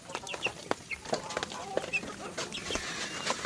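Backyard chickens cluck softly in scattered, repeated calls nearby, with a quiet background hiss.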